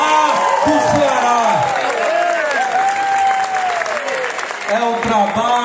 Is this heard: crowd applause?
yes